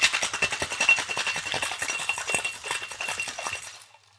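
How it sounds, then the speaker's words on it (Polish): Ice and Bloody Mary ingredients shaken hard in a cocktail shaker, a dense, fast rattling clatter that runs nonstop for about four seconds before stopping abruptly. "Wszystkie składniki przelewamy do shakera i mocno szejkujemy."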